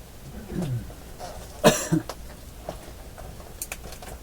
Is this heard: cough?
yes